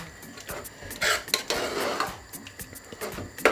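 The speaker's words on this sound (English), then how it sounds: "And then I'm going to stir it." A spoon scrapes and clinks against a cooking pot as jollof rice with beef is stirred, giving a run of uneven metallic knocks and scrapes at close range.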